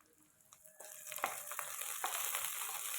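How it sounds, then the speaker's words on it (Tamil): Small shallots, ginger, garlic and coriander drop into hot oil. A quiet start swells into a steady crackling sizzle, with a few spatula taps as the frying builds. "எண்ணெய் காய்ஞ்சதும் சின்ன வெங்காயம் இஞ்சி பூண்டு கொத்தமல்லி சேர்த்து நல்லா வதக்கலாம்"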